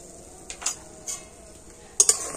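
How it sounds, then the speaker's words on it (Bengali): A utensil scrapes and clinks against a wok as ripe palm fruit pulp with a little salt is stirred, a few sharp metallic taps over a quiet background. "আর কড়াতে আমি এখন দিয়ে দেবো তালের পাল্প।"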